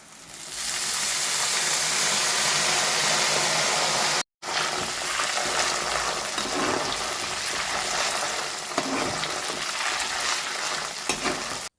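Banana chips frying in hot oil as salted water is sprinkled in, a loud continuous sizzle and bubbling that flares and churns, with a brief break partway through.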